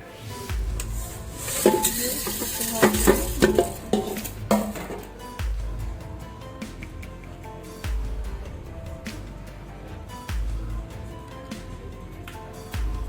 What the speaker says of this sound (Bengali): কড়াই বসিয়ে নিয়েছি, নিয়ে ওতে ডিম ভেজে নিচ্ছি